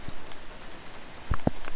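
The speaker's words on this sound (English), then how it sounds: "Whew, now it's really pouring." Heavy rain pours down outdoors, a steady soft wash of drops with a few louder splats and taps on nearby surfaces, close and unaccompanied by talk.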